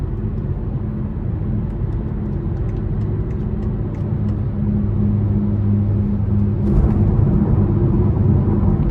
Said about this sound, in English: Just a tad bit of road noise from these 19-inch wheels on these thinner tires.